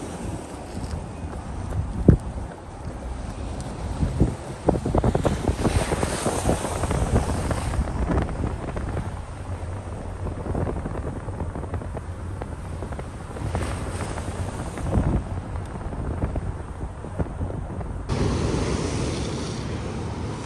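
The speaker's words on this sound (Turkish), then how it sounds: "Ve çok güzel dalgalar geliyor." Ocean waves break and wash ashore near the Golden Gate in San Francisco, a broad roaring surf rising and falling over strong wind buffeting the microphone, steady throughout with a few louder surges.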